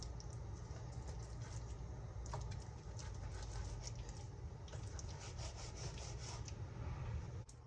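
A knife saws back and forth through broiled salmon on a cutting board, producing close, rhythmic scraping strokes that continue throughout.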